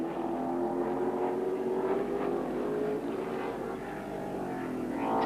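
1979 Holden touring race cars roar around the Baskerville circuit, a loud sustained engine drone with shifting pitch as cars brake and accelerate through a corner, rising again at the end.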